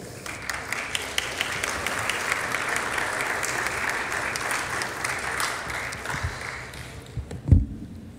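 Strong applause in the Mexican Chamber of Deputies after a guest speaker, steady clapping from many hands that thins toward the end, closing with a single sharp thump.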